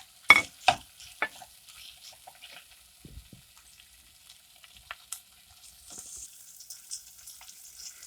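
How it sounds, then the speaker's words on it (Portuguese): Calabresa sausage frying in olive oil gives sparse, close crackles and pops, with a few louder spits near the start and quiet stretches between them. "Coloco a linguiça calabresa para fritar."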